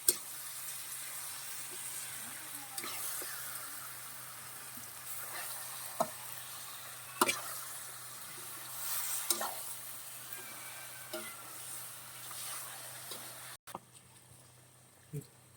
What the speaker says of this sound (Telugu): చికెన్ వేసుకుందాం. ఇప్పుడు మంచిగా కలుపుకుందామండి.